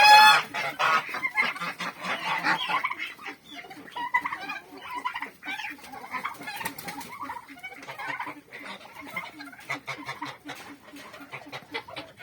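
Geese and turkeys at morning feeding, a noisy flock of honks, gobbles and clucks overlapping close by, with a voice briefly among them.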